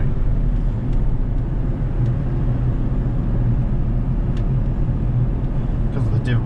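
A 2008 Jeep Wrangler diesel on the road, heard from inside as a steady low engine drone and road rumble, with a few faint clicks.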